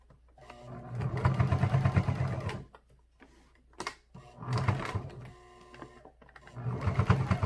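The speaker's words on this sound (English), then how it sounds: "So now what I'm going to do is take it to the sewing machine," A sewing machine stitches a fabric face mask in three loud, close runs of rapid whirring, with short quiet pauses between them.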